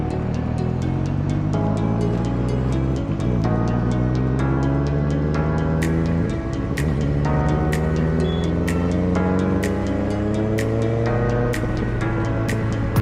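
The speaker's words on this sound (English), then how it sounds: "Started my bike with the M4 GP19" A Kawasaki ZX6R motorcycle fitted with an M4 GP19 exhaust runs loud and close, its engine note climbing repeatedly through the gears in a steady stream with sharp crackles and pops between shifts, and no voices heard.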